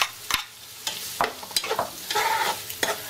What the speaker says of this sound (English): And give that a nice stir.